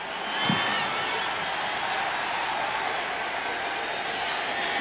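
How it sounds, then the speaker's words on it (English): Home crowd of Seattle Seahawks fans roars at the opening kickoff of a 1989 football game against Phoenix, a steady, dense wash of distant cheering that holds at one level throughout. "the Seahawks crowd, well known for their noise level, comes alive on the opening play"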